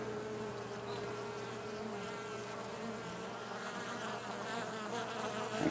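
Honey bees buzz steadily at an opened hive during a queen-cell inspection after smoking, a dense, even drone that holds close and constant throughout with no talk.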